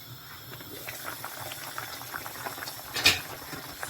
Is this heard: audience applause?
no